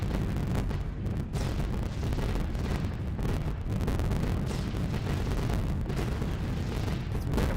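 Flak bursts battering a B-17 bomber in the game B-17 The Mighty 8th, a continuous loud roar of booming explosions and rushing wind with no let-up.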